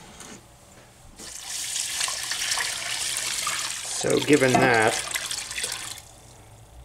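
Water pours in a steady rushing stream into a Lodge Sportsman cast iron deep fryer for cooking rice, a louder gurgling splash near the end, with a person talking briefly partway through.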